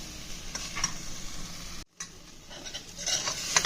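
Sorrel leaves (chukka kura) cook in a pan with a soft, continuous sizzle and light scattered ticks, briefly dropping out in the middle before the frying noise returns slightly louder.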